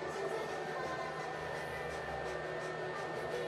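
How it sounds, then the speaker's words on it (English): A loud PlayStation console fan whirs as a steady, even hum through the background, unchanging for a few seconds with no clear speech over it. "if you hear noise in the background, that's my loud-ass PlayStation."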